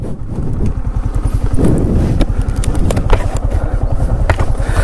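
A motorcycle engine chugs and revs nearby on an off-road village ride near Madurai in Tamil Nadu, with a steady throbbing rhythm throughout.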